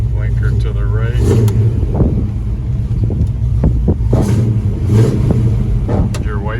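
A 1983 Chevrolet C10 4x4 pickup engine runs with a steady, loud low exhaust rumble throughout, with some brief rises in revs, while a person talks over it.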